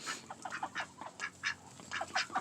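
Ducks quacking in a rhythmic series of short, fairly close calls, some overlapping, at a farm where duck eggs are being collected, with no talking.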